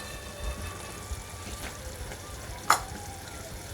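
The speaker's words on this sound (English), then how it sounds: "we prepared all the artichokes in the flour, and now we can slightly fry it" Flour-coated artichokes frying in a shallow layer of oil, a soft continuous sizzle with a couple of faint clicks and one sharper utensil tap.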